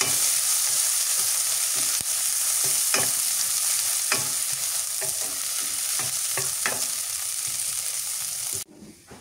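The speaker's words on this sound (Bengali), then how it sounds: "পেঁয়াজ ভাজা হয়ে গেছে, একদম লাল লাল করে ভেজে নিচ্ছি।" Onions fry in a pan until reddish-brown while being stirred, giving a loud, steady sizzle broken by repeated scraping strokes of the utensil before the sound cuts off abruptly at the end.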